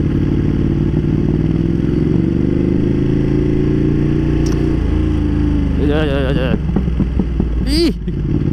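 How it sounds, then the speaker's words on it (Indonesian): Ducati Panigale V2 motorcycle engine running close by, a loud, steady throbbing roar that swells as the revs rise, followed by a few short, sharp exhaust pops and crackles toward the end. "Ih, backfire-nya tuh loh menyenangkan banget suaranya."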